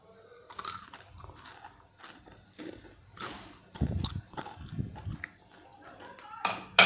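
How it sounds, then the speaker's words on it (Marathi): Golden fried pieces of Indrahar, a Baghelkhandi dish, bitten and chewed close by, giving a series of sharp crisp crunches in irregular bursts with quiet gaps between them. "त्या तुकड्याचा असा कुरकुरीत आवाज येतो खाल्ल्यावर तो मी तुम्हाला दाखवला"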